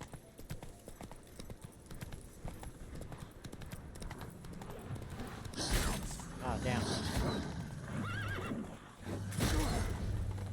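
Horse hooves clip-clopping at a gallop in The Witcher 3, joined by a loud neigh midway and another whinny near the end, with a quiet voice underneath.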